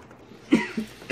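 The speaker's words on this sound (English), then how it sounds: "I just got a cough" Three quick coughs from one person, one sharp burst then two smaller ones in rapid succession, close and alone with no talking.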